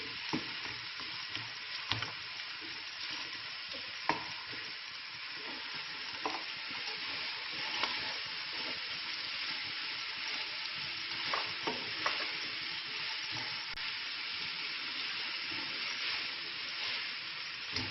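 Carrots and cabbage fry in a pan with steady, close sizzling, broken by repeated scraping clicks of a spoon stirring them throughout, with no talking.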